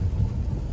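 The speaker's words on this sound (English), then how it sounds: "It's kind of rainy and inclement weather conditions, so visibility is poor." Steady rain during inclement weather heard from inside a moving car on a residential street, a dense low rumbling wash of drops and road noise with no talking.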